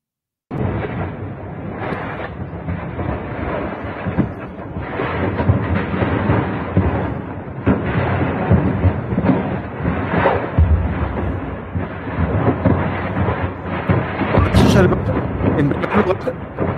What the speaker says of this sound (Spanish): las explosiones, también muchas explosiones secundarias